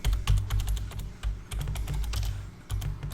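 Rapid keystrokes on a computer keyboard clatter in quick, uneven bursts, close and fairly loud, with short pauses between runs and no voices.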